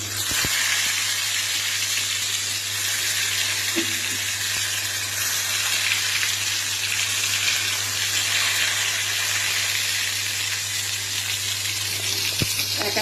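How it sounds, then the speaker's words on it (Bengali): Ash gourd fritters sizzle steadily in hot oil in a wok, a continuous bright hiss that holds evenly throughout, with a few faint clinks and no talking. "এবার এই চাল কুমড়ো যে ভাজাটা রেডি করেছি, এবার এটা আমি আস্তে আস্তে কড়াইতে ছাড়বো।"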